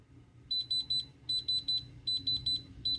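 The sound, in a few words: diamond tester beeping on a precious stone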